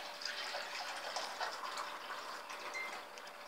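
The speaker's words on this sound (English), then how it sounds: "we put the water inside the tank." Continuous gushing of water poured steadily into the water tank of an Arrarex Caravell coffee machine, a hollow filling sound that stays even throughout.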